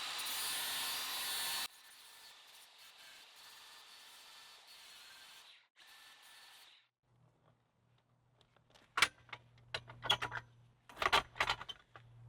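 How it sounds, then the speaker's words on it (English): A DeWALT FlexVolt 60V max brushless angle grinder cuts in a loud, harsh burst, then runs at a lower whirring level for several seconds before falling quiet, followed by scattered clatter and handling knocks. "We're going to finish up this couple inches, and that'll pretty much wrap up the demo for this grinder."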